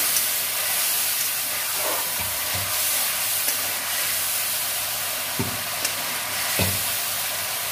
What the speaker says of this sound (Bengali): জল দেবো সামান্য, মশলাটা কষে নেবো।